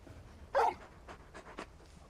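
A large dog in Final Fantasy XVI gives a short, breathy burst of panting or snuffling, fairly close, followed by a few fainter soft breaths against a quiet background.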